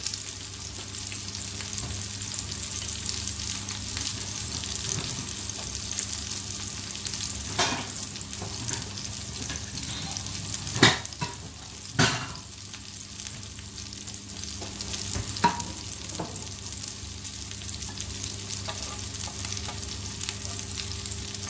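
Homemade turkey kebabs fry steadily in a pan with a constant close sizzle, broken by a few sharp clicks and taps of a utensil against the pan.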